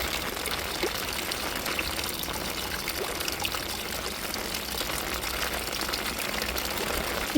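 Rainwater pouring steadily into a can at home during heavy rain, a continuous hissing splash with a trickling edge, even and close, no voices.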